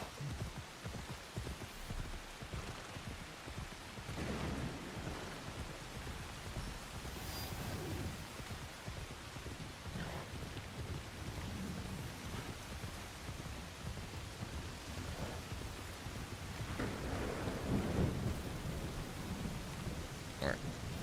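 Steady rain and occasional thunder from the weather in the video game Assassin's Creed Shadows, a constant wash of downpour with faint rumbles underneath, while someone talks over it.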